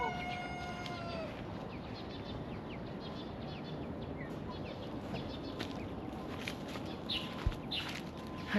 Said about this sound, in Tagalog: Kunin na natin yung manok natin.